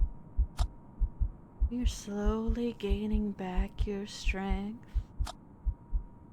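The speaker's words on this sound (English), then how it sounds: "The heartbeat is slowing." A slow, steady heartbeat in a horror video game thumps in a regular rhythm of soft low pulses throughout, with a calm voice speaking over the middle.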